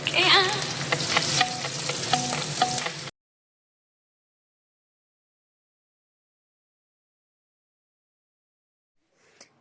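Pointed gourd (potol) pieces frying in a pan make a loud, close sizzle with a few stirring clicks for about three seconds, then the sound cuts off into near silence.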